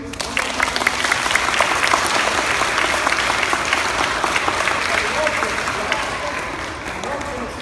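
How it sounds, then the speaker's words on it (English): Audience at a school talk breaking into sustained applause, dense crisp clapping from a crowd that holds steady for several seconds and tapers slightly, with a voice briefly present. "Can we have another round of applause, please?"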